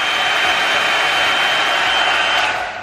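Revlon One Step blow dryer running on its hot setting: a steady, loud, close-up airy whoosh with a constant motor whine, holding even for nearly three seconds before easing slightly at the end.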